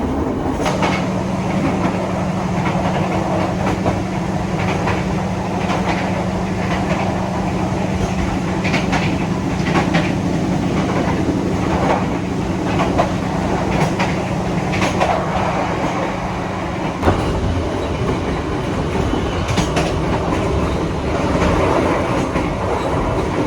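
A passenger train runs along the rails, heard from inside an Indonesian railway carriage: a loud, continuous rumble with repeated wheel clicks and a sharper jolt partway through, with no voices.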